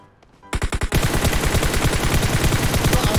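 A rapid automatic burst of gunfire hitting the floor in PUBG Mobile, opening with a few separate shots and then a loud, steady, fast stream of shots that runs to the end.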